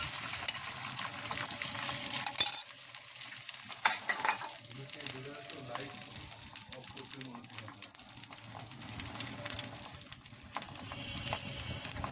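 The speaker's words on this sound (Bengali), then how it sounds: "এদিকে আবার ডিম ভাজছি, একসাথে সব কিছু করছি।" Eggs fry in a pan while other breakfast is being prepared, giving a steady, close sizzle with occasional stirring scrapes and a few clicks, and voices are faintly audible in the background.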